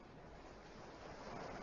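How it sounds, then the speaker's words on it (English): Ocean waves wash steadily as a continuous, broad surf roar, a sound effect in a vintage sci-fi radio drama, with no voices. "Listen to the waves."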